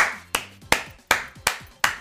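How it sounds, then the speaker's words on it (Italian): A single person clapping slowly, six sharp claps at a steady, unhurried pace, close up with no one talking. "Mi faccio un applauso da solo"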